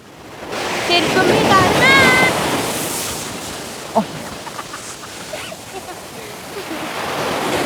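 Ocean waves break on a beach in a continuous loud roaring wash of surf that swells and ebbs, with brief faint voices drifting in the background.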